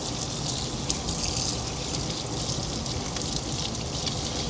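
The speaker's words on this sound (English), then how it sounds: "I'm gonna go ahead and just run some water here." Tap water runs in a steady hiss as it rinses a whole-house humidifier pad, with splashing and a constant flow throughout.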